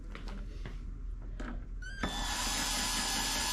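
A light-duty battery-operated driver set to low torque tightens windshield screws on a 2024 Harley-Davidson Street Glide, giving a brief rising motor whine after a few faint clicks, followed by steady broadband noise.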